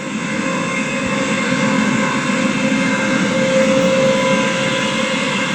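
A British Rail Class 350 electric multiple unit arriving at a station in a Roblox railway game, with a steady, loud rumble and motor hum that hold throughout, no talking over it.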